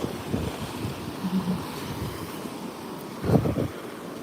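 Ocean waves wash onto a beach near a headland at Mona Vale, a steady surf wash with wind buffeting the microphone and a brief louder surge near the end.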